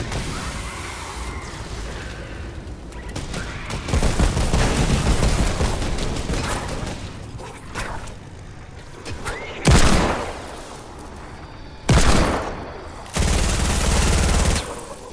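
Gunfire in the video game Fortnite plays as bursts of rapid shots, some long and sustained and others short, rising and falling in loudness and separated by quieter gaps.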